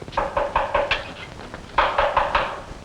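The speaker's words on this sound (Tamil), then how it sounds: "ஐயோ, யார் கதவை தட்டுறது?" Knocking on a door, two quick bursts of four or five sharp raps separated by a short pause, fairly close and clear with no talk.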